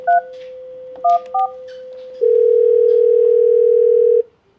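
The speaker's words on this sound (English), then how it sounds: "So to transfer a call, dial the extension" Grandstream desk phone dialing an extension: three short touch-tone beeps over a steady dial tone, then a longer sustained tone that cuts off abruptly, clear and close with no voices.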